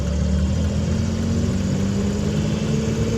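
A car engine drones steadily and loudly from inside the cabin while pulling from a service road onto a highway, a constant low hum with mild rise in pitch.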